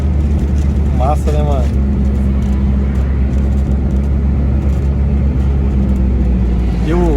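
Turbo car with flutter chatter on gear shifts, engine droning loud and steady beneath talk, with brief fluttering bursts around the shifts early and near the end.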